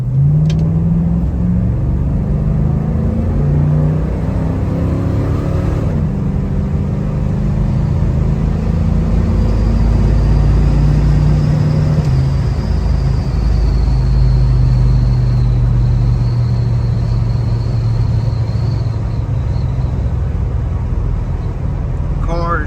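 A numbers-matching 1966 Chevrolet Chevelle SS 396 accelerates around a corner, its loud V8 roaring close by with the engine pitch climbing, easing and rising again over a steady rumble.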